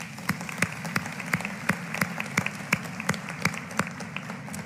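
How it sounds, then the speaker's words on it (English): Applause from an audience at a Centennial College graduation ceremony in Canada, dense steady clapping with a few sharper close claps standing out over a few seconds, no talking. "Let's give them a big round of applause."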